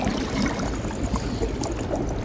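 In a pirate video game, water sloshes and pours steadily inside a leaking boat, a continuous dense rushing wash without breaks.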